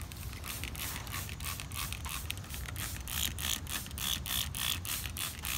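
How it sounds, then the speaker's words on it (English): A trigger spray bottle pumps repeatedly onto a plant, giving a steady series of short spritzing bursts with faint mechanical clicks, close by and quiet, with no talking. "we'll spray it with the ready-to-use spray like so"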